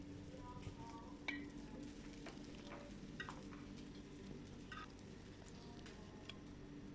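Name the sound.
fish sizzling while frying in oil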